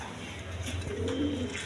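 A pair of khaki pigeons coo softly and briefly, low murmuring calls heard close over a steady background hum.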